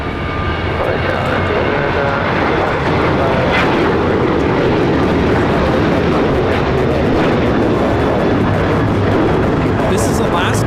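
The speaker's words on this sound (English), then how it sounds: "This is Alaska Airlines 219 taking off to Los Cabos on the 737-900ER." An Alaska Airlines Boeing 737-900ER roars steadily through its takeoff roll at LAX, bound for Los Cabos, a loud continuous jet rumble filling the whole stretch with a broad roar that swells slightly, with people talking faintly underneath.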